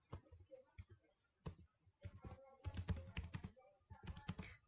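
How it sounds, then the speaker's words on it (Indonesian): Close keystrokes on a computer keyboard as a welcome heading is typed for a web page design. The crisp clicks come in uneven bursts, with short pauses between runs of rapid taps. "Jadi saya ketikkan di sini"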